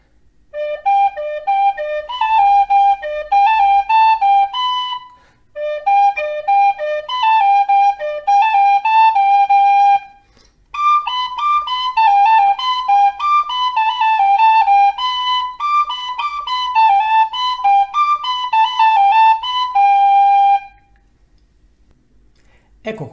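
Tin whistle playing a tune, bright clear melodic phrases in three sections separated by short pauses, with ornamented grace notes, played solo and close.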